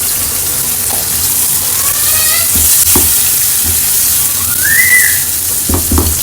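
Chana dal fries with garlic-ginger paste, onion and tomato in a home kitchen, a steady close sizzle with occasional stirring clinks and a faint whistle rising in the background.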